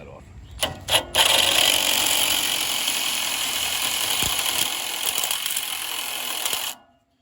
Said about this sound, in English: I'm gonna cut off the remaining shaft, hook up my impact driver there and cut that off.